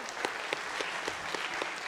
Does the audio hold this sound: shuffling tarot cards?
no